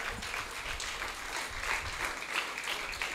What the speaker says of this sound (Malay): Jadi tepukan yang gemuruh untuk Yang Berbahagia Datuk.